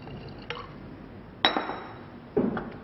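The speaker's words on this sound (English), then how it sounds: "and finally chlorine water into potassium iodide." Chlorine water splashes into a glass flask of potassium iodide: a faint tap, then two sharper glass clinks with short liquid trickles after each, quiet and close with no voices.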